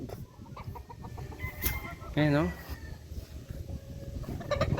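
Chickens and champion roosters on a farm cluck and call around a speaker, with one clear rising, wavering crow-like cry in the middle and softer bird calls scattered around it.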